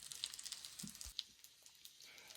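Liver fritters with vegetables sizzle in a frying pan, a quiet continuous crackle with scattered small pops, no talk.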